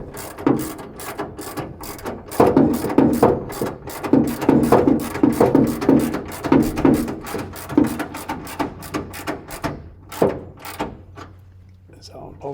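A hand ratchet cranks tail light bracket bolts tight on a Holden Torana GTR XU1 LJ, giving rapid rhythmic clicking bursts at close range that slow and thin out near the end.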